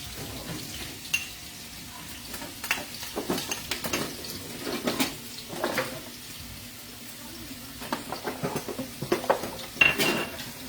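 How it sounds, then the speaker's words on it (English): Garlic goes into a pot to cook for a Guyanese breakfast, with clinks of pots and utensils, light sizzling and scattered kitchen clatter throughout, fairly quiet and close. "I'm putting in garlic in here to cook up first."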